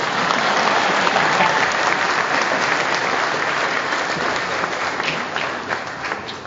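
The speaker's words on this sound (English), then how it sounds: "we can applaud a bit" Audience in a hall applauds at a building dedication ceremony, sustained loud, dense clapping from many people that stays steady and fades slightly toward the end.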